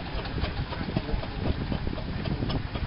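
McLaren steam traction engine, a massive engine shown as a large model at the Romsey Show, running with a steady low rumbling chuff and mechanical clatter under outdoor show ambience, constant and fairly close.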